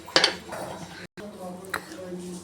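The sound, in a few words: pressure cooker being closed with lid and weight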